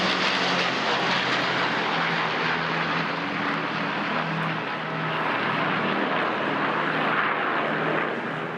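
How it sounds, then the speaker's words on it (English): Avro Lancaster bomber followed by an RAF Voyager tanker and A400M Atlas transport flying over Buckingham Palace, a steady loud droning roar of aircraft engines filling the whole stretch without letting up. "Flight Lancaster saluting the King and Queen as they're followed by a Voyager and an A400M Atlas from the Royal Air Force"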